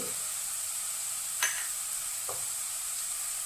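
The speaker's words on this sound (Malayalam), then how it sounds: "മുളക് പൊടി നന്നായിട്ട് ഇളക്കി കൊടുക്കുക. ലോ ഫ്ലെയിമിലേക്ക് ആക്കണം" Turmeric and chilli powder fry in a pan with steady faint sizzling, while a spoon makes a couple of brief stirring scrapes; rose apple pickle masala is being cooked on low flame.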